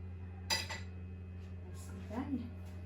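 A metal spoon is put down, clinking lightly against dishware, a brief sharp tap followed by a softer clink a moment later, quiet against a steady background hum.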